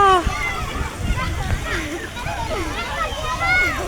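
Girls jumping and splashing into a swimming pool on a hot day, with water sloshing and splattering repeatedly amid excited children's voices and an adult calling out over the noise.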